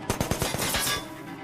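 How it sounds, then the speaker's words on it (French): Rapid gunfire rings out inside a bank in a French action film, a quick burst of about eight close shots in uneven rhythm, then a fading echo, with no talk. "Chef, on a des échanges de tirs dans la banque."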